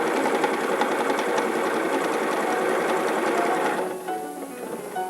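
A sewing machine stitching a 3 mm zigzag outline runs at a steady rapid whir for several seconds, then slows and quiets near the end, with no talking.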